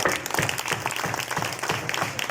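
Applause welcoming Suresh ji at a youth gathering, a steady wash of clapping from a crowd, fairly loud and continuous, with a faint rhythmic beat underneath.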